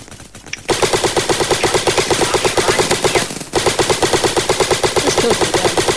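Sustained automatic AK rifle fire in a Roblox airsoft battle game, rapid evenly spaced shots loud and close, starting after a brief quiet moment and pausing once midway before resuming.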